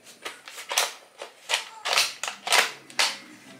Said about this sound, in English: A Nerf gun.